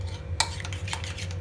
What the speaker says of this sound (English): Mix it nicely. Make a smooth paste.